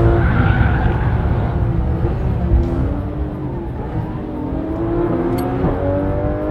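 A Porsche GT3 RS naturally aspirated flat-six engine revs hard and climbs steadily to a high, wailing pitch near 9000 rpm, loud and close, with no talking.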